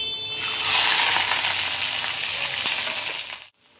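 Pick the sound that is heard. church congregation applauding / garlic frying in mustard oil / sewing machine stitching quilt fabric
garlic frying in mustard oil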